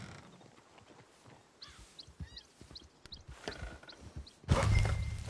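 Horses in Red Dead Redemption 2: hoof clip-clop and faint whinnies at low level under game ambience, rising to a louder burst of commotion near the end.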